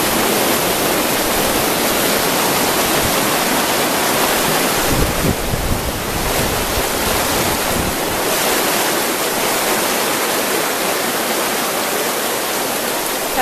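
Water rushes loud and steady through Inca stone channels at Ollantaytambo, Peru, a continuous broadband roar heard close up with no voices.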